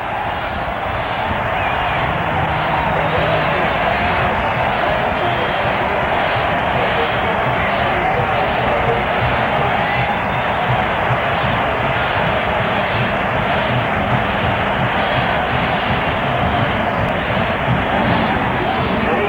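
A packed football stadium crowd roars after a Purdue touchdown in a 1973 Notre Dame at Purdue game, a loud, sustained wash of cheering that holds steady throughout.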